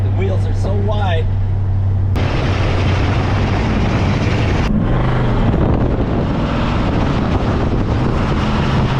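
A wide-track hot rod car drives along with a steady low engine rumble and heavy wind buffeting, loud and close throughout, with a brief voice near the start.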